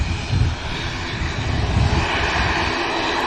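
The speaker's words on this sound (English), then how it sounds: "the next heavies to make its way out, the 330 of Virgin Atlantic" Virgin Atlantic Airbus A330 heavy jet departing as flight 139 at Manchester Airport, a continuous low engine roar with slight surges, steady and moderately close, no voices.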